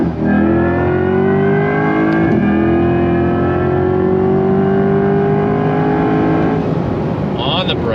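A Chevrolet C8 Corvette E-Ray hybrid AWD sports car pulls hard under full throttle out of a corner, its engine note climbing steadily and loudly from inside the cabin, with a brief shift-like dip midway and a faint voice near the end.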